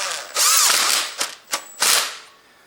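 A power tool or ratchet drives a locking bolt into the engine of a 1.8 VTEC Honda Civic (2006–2015), giving one longer whirring burst, two quick short bursts, then a final brief run, all close by.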